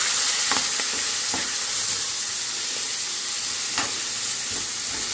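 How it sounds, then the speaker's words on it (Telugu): Onion, green chilli, fenugreek leaves, mint and bay leaf frying in hot oil for a prawn curry: a steady, close sizzle with a few soft stirring scrapes, no talking. "మెంతం కూర, బిర్యానీ ఆకు మంచిగా వేసేసుకొని ఫ్రై చేసేసుకోండి."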